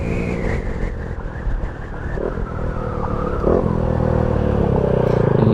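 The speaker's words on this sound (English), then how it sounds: "you hear those downshifts pretty smooth" A Kawasaki Z125 Pro motorcycle engine drones steadily and then climbs in pitch as it is revved during downshifts, heard close and continuous with faint mechanical clatter.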